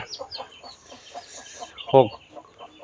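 A hen with seven chicks clucking in soft repeated bursts close by, with one sharper louder squawk partway through and faint chick peeping.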